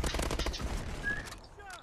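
Rapid gunfire from an overheating gun in Call of Duty: Advanced Warfare EXO Survival, a dense, loud burst of shots that fades out, with voices talking over it.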